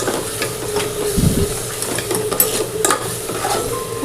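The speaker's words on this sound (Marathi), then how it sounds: "अजून तेल सुटेपर्यंत याला पण फ्राय करूया" Mutton masala fries in oil in a pot and is stirred, giving a close, loud, continuous sizzle with scraping strokes and occasional metallic clinks of a spoon against the pot.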